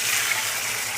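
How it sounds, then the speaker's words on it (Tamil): Tamarind water pours into hot oil with frying garlic and onion for a kara kuzhambu, a steady, close hissing gush that fills the whole second with no pauses. "தண்ணி வேணும் கொஞ்சம் பார்த்து ஊற்றணும், ஏன்னா கொஞ்சம் வெடிக்கும்"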